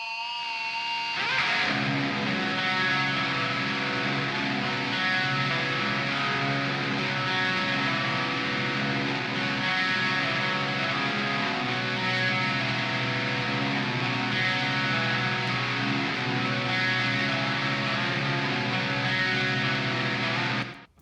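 Sustained distorted fuzz guitar chords layered with a cleaner guitar part, a thick, harmonically dense wall of sound held for about twenty seconds.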